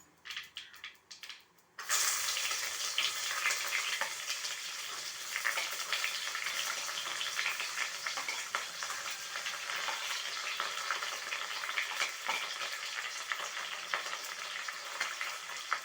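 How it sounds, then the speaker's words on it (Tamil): Chopped onion drops into hot oil where mustard seeds, fennel and poppy seeds have already popped, for a crab soup. A sudden loud, close sizzle bursts in about two seconds in and keeps frying steadily to the end. "இப்போ ஆனியன் ஆட் பண்ணியிருக்கோம் பாருங்கள்."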